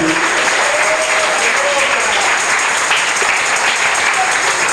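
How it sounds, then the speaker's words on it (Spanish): Church congregation applauding, a dense continuous roar of many hands clapping that stays loud and even throughout, with a voice briefly heard over it. "Denle el aplauso al Cristo que vive."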